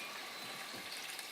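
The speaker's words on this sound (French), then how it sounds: "Ensuite, nous allons ajouter de l'eau." Water pours steadily into a blender jar over coconut pieces, a soft, continuous splashing gush heard close up with no talking.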